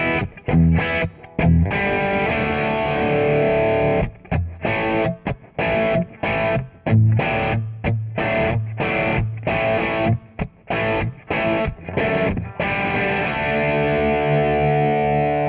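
Heavily distorted electric guitar chugging through an amp, loud and upfront, with rhythmic stops and bursts of palm-muted chords.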